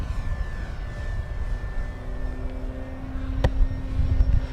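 Dynam PT-17 biplane RC model flying with its engine power being raised, a steady mid-distance drone with sustained tonal hum that grows slightly louder toward the end, no talk.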